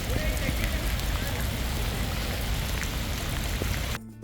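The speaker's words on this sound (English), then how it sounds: "we had 3 or 4 days of full-on rain." Heavy rain falls in Barcelona during a multi-day downpour, a dense, steady hiss of drops pattering on surfaces that continues unbroken before cutting off abruptly near the end.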